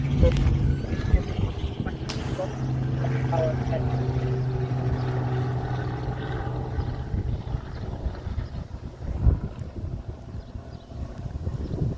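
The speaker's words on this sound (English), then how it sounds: "There's a helicopter flying over the office." A steady low mechanical drone with rhythmic thumping from a helicopter flying over an office hangs over the whole stretch, heard indoors with muffled voices and room noise mixed in.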